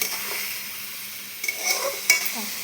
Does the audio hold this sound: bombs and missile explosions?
no